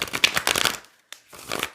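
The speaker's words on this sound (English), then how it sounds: "I feel compelled to shuffle." A deck of tarot cards being shuffled close up, a quick riffle followed by a short pause and a second riffle.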